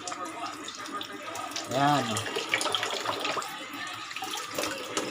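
Strong, steady rush of water pouring from a freshly cleaned water filter tap, a continuous broadband hiss under a voice speaking briefly over it.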